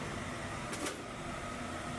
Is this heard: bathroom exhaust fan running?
yes